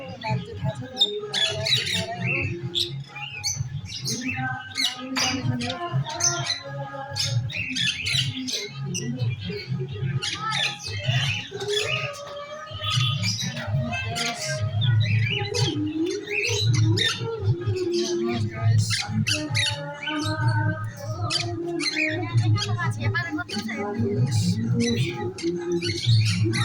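Birds squawking and chirping in a busy, overlapping chorus, repeated harsh calls near and far, with a voice talking intermittently underneath.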